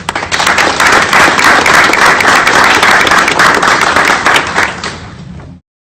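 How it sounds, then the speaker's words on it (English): Loud, dense applause from an audience at a police explorer academy graduation, sustained clapping that carries on for several seconds before cutting off abruptly. "I want to give him a round of applause"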